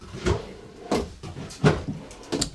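A drawer in a Keystone Montana 3795FK fifth-wheel RV slides and thumps shut several times in a row, with short wooden knocks spaced about every half second, close by.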